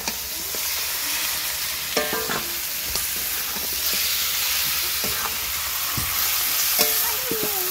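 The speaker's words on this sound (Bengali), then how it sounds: "এবার ওই মাংসগুলো দিয়ে দেবো, শুধু লবণ দেওয়া আছে মাংসে।" Salted chicken pieces hit hot spiced oil in a pan and sizzle steadily, with a constant frying hiss broken by scattered clinks and scrapes of stirring, up close and without talk.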